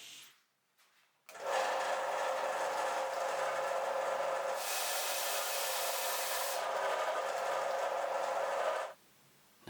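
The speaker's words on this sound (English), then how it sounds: "this chamfering was done on the sanding belt" A belt sander grinds steadily against teak wood for several seconds, chamfering edges, with a harsher, brighter stretch in the middle before it cuts off.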